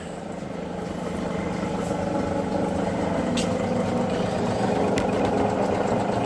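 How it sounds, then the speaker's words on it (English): A Zocca 500 metal shaper's oil pump runs with the clutch engaged, giving a steady, continuous mechanical drone with a low hum that swells slightly at the start and then holds, punctuated by faint ticks. "And now the pump's running."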